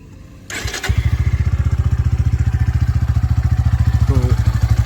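A motorcycle engine, freshly serviced with Motul oil, starts with a short crank and catches, then settles into a steady, rapid thumping idle close by, with no one talking over it.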